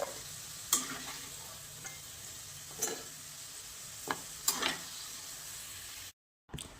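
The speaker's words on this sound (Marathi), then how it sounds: "आता बटाटे आपल्याला छान फ्राय करून घ्यायचे कमी गॅसवरती" Potatoes frying in oil in a kadhai on a low flame give a steady, close sizzle. A few light clicks of a utensil on the pan punctuate it, and a short silent gap comes near the end.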